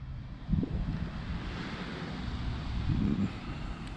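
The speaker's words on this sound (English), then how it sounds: "The wind's still playing havoc." Wind blowing outdoors beside a lake, a steady low roar and rumble buffeting the microphone, with gusts swelling near the start and end.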